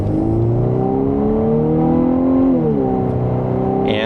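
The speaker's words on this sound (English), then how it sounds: "And that is an acceleration with pedal to the floor up to speed" A 2026 Volkswagen Atlas SE accelerates hard with the pedal floored in sport mode, its engine droning loud and rising in pitch, dipping briefly at a gear change before climbing again, heard from inside the cabin.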